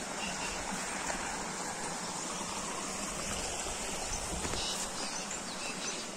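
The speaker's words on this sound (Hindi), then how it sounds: "पानी का साउंड आ रहा होगा आपको।" Steady rushing water, like a stream or tap running continuously, a broad hiss holding even throughout with no pauses.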